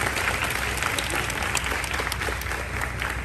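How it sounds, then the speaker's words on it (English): A crowd at a pageant crowning claps steadily, a dense and even wash of applause that holds at the same level throughout. "So a big round of applause for the achievements you've made being on the stage."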